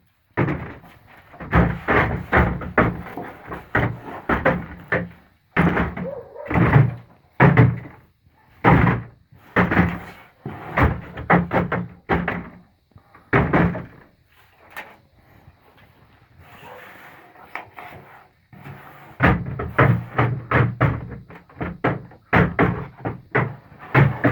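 A ram butts a door with its horns, repeated loud bangs and thuds in rapid bursts, pausing briefly before the pounding resumes, forceful and close.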